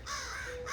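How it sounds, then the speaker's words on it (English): Crows caw in a Sonoma County garden and orchard, two harsh calls a short way off, the second following closely after the first, with no one talking over them. "Yes, I hear you, crows."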